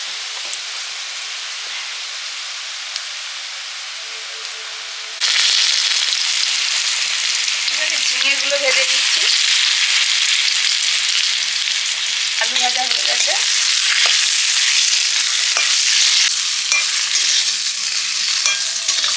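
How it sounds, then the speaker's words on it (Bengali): A pot of chopped taro and water lily stems being boiled in water, a soft low hiss that swells into a loud steady bubbling sizzle, with a few brief clinks of a utensil. "ছোলা কচু শাপলা কেটে দিয়ে দিয়েছে মা সেদ্ধ করে নিচ্ছি"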